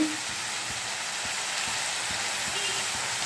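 Kasara kayalu (bitter gourd) fry in a pan with turmeric being added, giving a steady, even broadband sizzle with a few faint tapping stirs underneath.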